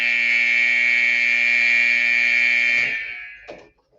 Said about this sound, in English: the buzzer goes to end the game